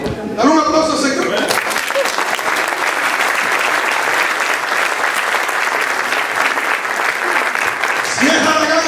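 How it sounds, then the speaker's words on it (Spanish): A church congregation bursts into loud, sustained applause that fills the room for about seven seconds. Spoken Spanish comes just before the clapping and returns as it fades out. "Dale un aplauso al Señor."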